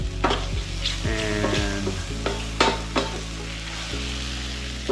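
Loud, steady sizzling of Italian-seasoned chicken frying in a hot pan, crackling close up with occasional stirring clatter and a brief spoken word.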